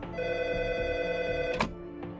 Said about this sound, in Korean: 야나오카는 지인에게 조언을 구하기 위해 전화를 걸었습니다.